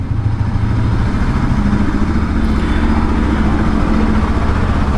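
Bajaj Pulsar NS200 motorcycle riding along at an easy pace, a loud, steady engine drone with a throbbing low rumble, close and continuous, no talk.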